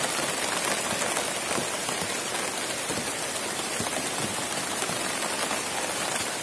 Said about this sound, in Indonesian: hujan-hujan seperti ini